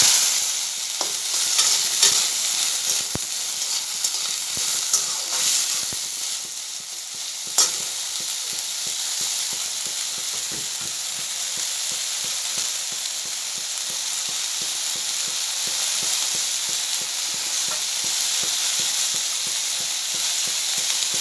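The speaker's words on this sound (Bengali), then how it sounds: "এবারে গোটা থেকে এই যে বিচি থেকে ছাড়িয়ে নিয়েছি শোলপা, ওইগুলো দিয়ে দিচ্ছি" Sholpa seeds frying in hot mustard oil with browned mustard seeds, a bright continuous sizzle with occasional louder crackles and pops, close and alone.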